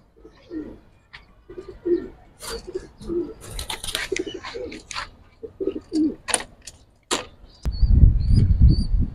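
Giribaz and high-flyer pigeons in a loft give repeated low, throaty coos, some close and some farther off, mixed with light scratching and flutter, before a burst of rumbling noise at the end.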